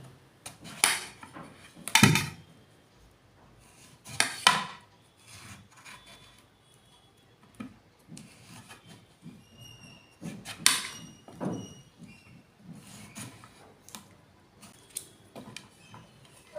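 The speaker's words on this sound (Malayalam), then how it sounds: "ഇനി നമുക്ക് കട്ട് ചെയ്യാം." Knife cutting vegetables on a board for a healthy homemade juice, a handful of sharp separate chops and scrapes spaced a few seconds apart, close and fairly quiet.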